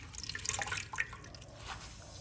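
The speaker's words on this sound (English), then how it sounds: "I'm just gonna dunk it in the boiling water, and then I will immediately take it out and dunk in ice cold water" Amaranth leaves plunged into a pot of boiling water give a short burst of bubbling, splashing water, fairly faint and brief, with no talking.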